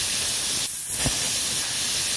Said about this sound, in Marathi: आता कुकरचं झाकण लावून कुकरच्या 2 शिट्ट्या करून घ्यायच्या